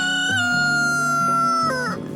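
Chickens give a loud, close, sustained vocalization with a steady tone, followed by a short wavering call, while eating treats of cantaloupe and celery from a tray.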